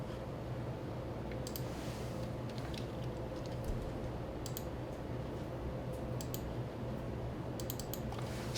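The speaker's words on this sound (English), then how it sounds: "you'll see I'm clicking through some templates." Computer mouse clicking through software templates in a foot and ankle clinic office, soft scattered clicks in short bursts over a steady background hum, fairly quiet and close, without any talking.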